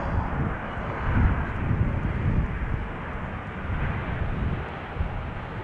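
A Surinam Airways Airbus A340 lands at Amsterdam Schiphol Airport, a loud, steady roar of jet engines and rushing air that fills the whole span with slight surges, heard from a distance outdoors without speech.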